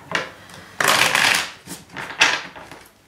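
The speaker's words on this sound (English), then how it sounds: "Actually, I'm gonna give a quick shuffle." A deck of tarot cards is shuffled by hand in several quick riffling bursts, the papery flutters near and crisp with short pauses between them.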